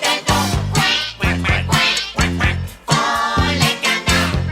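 In a French children's farmyard song, a voice imitates ducks with rhythmic quacking phrases over bouncy accompaniment, repeating in short even bursts.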